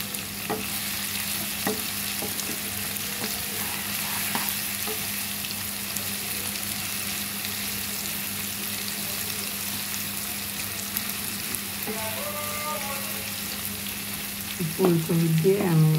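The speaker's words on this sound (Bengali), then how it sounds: "জাস্ট এটা ভাজা হোক, অন্য সবজি অ্যাড করব। এবার আমি এখানে ফুলকপি দিয়ে দিব।" Vegetables stir-fry in a pan, a steady hiss of frying oil running throughout with a few soft clinks, and brief stirring noises near the end.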